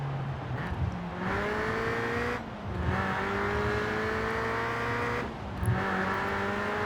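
Toyota AE86 engine heard from the cabin in Forza Horizon 4, revving up through gears in steady climbing pulls with brief drops at shifts, loud and continuous with no talk.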